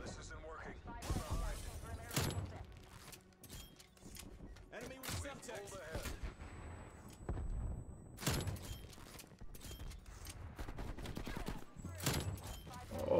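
Shotgun blasts in Call of Duty Cold War multiplayer: a handful of loud, sharp booms spaced a few seconds apart, each with a quick decay, over a busy game soundscape and excited talk.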